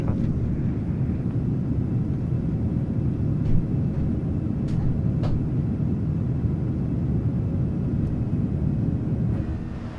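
PMDG 737 jet engines during takeoff roll in a flight simulator, with a steady, loud low rumble and roar that holds constant throughout, a few faint clicks above it, and no talk.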